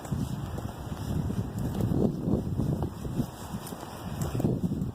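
Steady, cold wind buffeting the microphone outdoors, a continuous low rumble with gusts rising and falling throughout.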